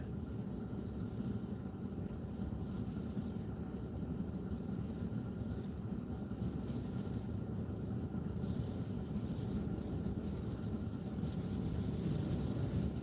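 Wind gusts during a windstorm at Ocean Shores, Washington: a continuous low, heavy roar buffeting the microphone, loud and unbroken throughout with no talk.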